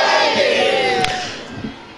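A crowd at a Shia majlis gathering, marking 12 Safar in Chota Nihang, shouts a slogan together in one loud, sustained chant that fills the clip and fades slightly toward the end.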